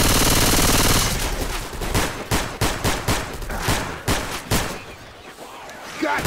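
Gunfire in Left 4 Dead 2, beginning with a continuous roaring burst, then separate sharp shots cracking at a quick, uneven pace, loud and close, with faint game sounds between them.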